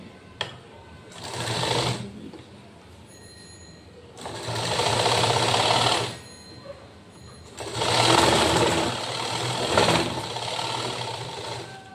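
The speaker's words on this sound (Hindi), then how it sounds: "हमें यहाँ पे जो है वो सिलाई मारनी है" A sewing machine stitches the lining and border strip of a blouse in three bursts of rapid, even running, the middle and last bursts longer, with quiet pauses between, loud and close.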